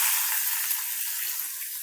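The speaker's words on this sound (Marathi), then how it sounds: "आपण टाकू मोहरी त्याच्यानंतर हा कढीपत्ता आहे सुकलेला थोडंसं कढीपत्ता टाकू आता टाकू कांदा" Mustard seeds and dried curry leaves sizzle with onion in hot oil in an iron kadhai, a steady, close hiss of frying with no one talking.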